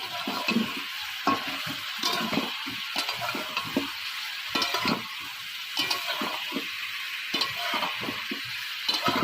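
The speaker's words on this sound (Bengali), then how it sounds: "দিয়ে দিব লবণ আর হলুদ এবার ভালো করে নেড়ে নিই" Food fries in a pan with salt and turmeric added while it is stirred, a continuous sizzle broken by repeated scraping strokes of the spoon at a steady rhythm, close and fairly loud.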